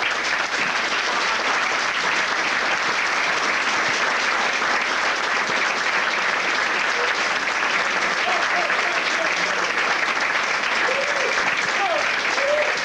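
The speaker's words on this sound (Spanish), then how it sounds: "Un aplauso para todos estos campeones." Sustained applause fills a banquet hall at a tribute dinner for pelota champions in Irun, a dense, loud, steady crowd clapping that continues for many seconds without letting up.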